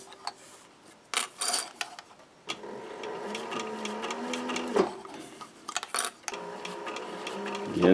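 A sewing machine stitches a newsboy cap seam in short, start-stop bursts, including back stitches, with a nearby whirring motor and light handling noises between runs.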